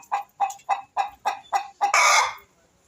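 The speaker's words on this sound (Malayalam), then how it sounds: "ഇനി ഞാനാണെങ്കിൽ ഈ കോഴി ഭയങ്കര ബഹളമാണ് ഗൈസ്" A chicken clucks close by in a steady run of about seven evenly spaced clucks, then bursts into a louder, harsher squawk before falling quiet.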